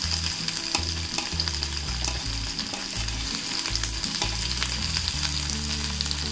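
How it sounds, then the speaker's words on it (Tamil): Onion and green chilli fry with cumin in a hot pan, giving a steady, close sizzle with soft stirring and scraping sounds throughout. "இப்போ ஜீரகம் பொரிஞ்சதும் நம்ம வெங்காயம் சேர்த்துடலாம். வெங்காயம், அப்புறம் பச்சை மிளகாய்."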